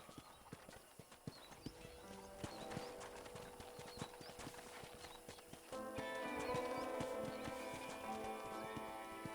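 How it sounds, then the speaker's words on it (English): Horse hooves clip-clop steadily while riding through a ranch in the Red Dead Redemption video game, an even, close rhythm of hoofbeats under quiet background music. "let's see if you can still ride a horse"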